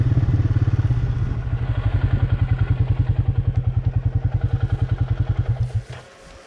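Four-wheeler ATV with a faulty drive belt, its engine running with a steady rapid thumping, clattering pulse that continues for about six seconds before cutting off, close and fairly loud.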